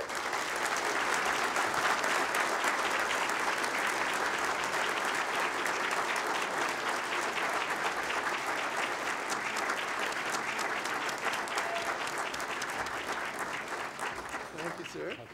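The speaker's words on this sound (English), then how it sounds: "So please, folks, a round of applause." An audience at a university business dinner applauds as a chancellor is welcomed to the stage, loud, continuous clapping from many hands that holds steady before easing off near the end.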